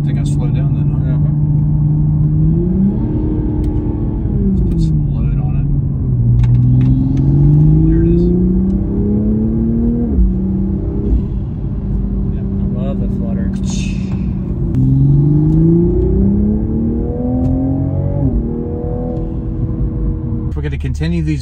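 A JB4-tuned Toyota Supra pulls through several gear changes, its engine rising and dropping in pitch repeatedly with turbo whoosh and hiss, loud and close inside the cabin.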